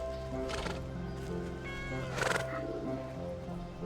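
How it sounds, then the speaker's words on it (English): Several cats meow in the town square of the Wytchwood video game, a few drawn-out calls over steady background game music, with no talk. "And now there's a bunch of cats in the town square too."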